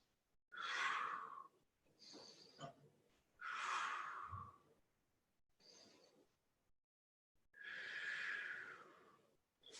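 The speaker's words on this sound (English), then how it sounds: "Nice big three big deep breaths." Three slow, deep breaths during a post-workout hip and glute stretch, each a long airy exhale close to the mic, separated by quiet pauses with a few small breathy sounds between.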